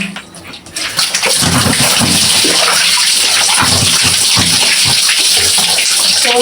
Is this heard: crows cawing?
no